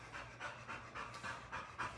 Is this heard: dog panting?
yes